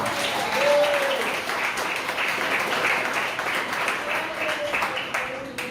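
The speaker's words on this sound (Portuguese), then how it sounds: "Quantos podem aplaudir a Jesus?" A church congregation at a large Pentecostal-style vigil applauds for Jesus, a continuous broad patter of many hands ringing through the hall, with brief voices rising over it at moments.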